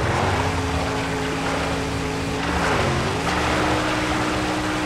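A car engine drives in the Mad Max video game, a loud, steady droning hum whose pitch dips and rises as the vehicle shifts speed, alone without talk.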